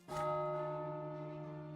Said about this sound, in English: The great bell of the great temple rings, echoing over the capital